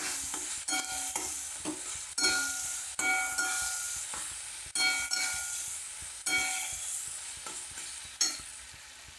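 Roasted Jalgaon eggplant being stir-fried for bharit, with a steady hiss of frying broken by repeated scraping and clinking stir strokes of a spoon in the pan, close and moderately loud, no talking.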